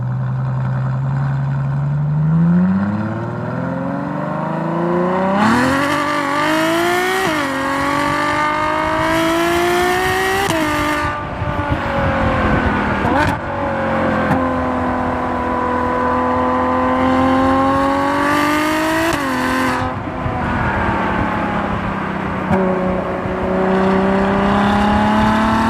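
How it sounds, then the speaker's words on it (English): Ferrari FF sports car accelerating hard, its engine loud and continuous with rising pitch sweeps through successive gear changes, revving up, shifting and climbing again, heard from inside the car for the whole stretch. "it got to that speed really, really quick"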